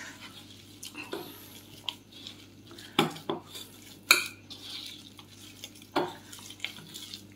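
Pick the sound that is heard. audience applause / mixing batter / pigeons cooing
mixing batter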